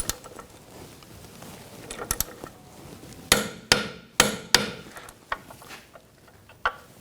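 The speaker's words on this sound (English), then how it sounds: "Now we're going to torque this nut and bolt to 94 foot-pounds." Tightening a nut and bolt on the rear shock of a 2000-2006 BMW X5 with a torque wrench gives a run of sharp metallic clicks and knocks, irregular at first and then in clustered bursts, close and fairly loud.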